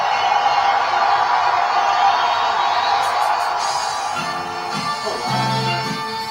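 A sold-out political rally crowd roars and cheers at Madison Square Garden in New York, a loud continuous wash of distant shouting and whooping that tapers slightly toward the end.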